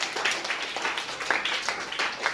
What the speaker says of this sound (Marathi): टाळ्या वाजवा या तिघांसाठी.